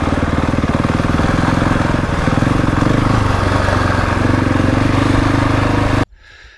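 A KTM 690 Enduro single-cylinder motorcycle engine runs close by with a steady, loud throbbing chug for about six seconds, then cuts off abruptly into quiet.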